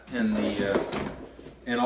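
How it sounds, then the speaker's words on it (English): A soft-close cabinet drawer slide in a shipping container home runs open and shut with a smooth rolling rumble and a muted thud, with a second movement starting at the end, heard at close range. "So we've got soft close drawer slides all throughout now."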